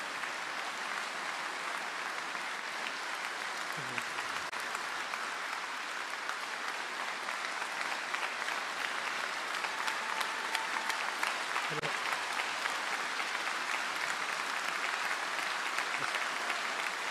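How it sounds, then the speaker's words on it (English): Sustained applause from a university graduation audience as honorary doctorates are conferred, steady and even for the whole stretch, with a few brief voices underneath. "Would you like the applause?"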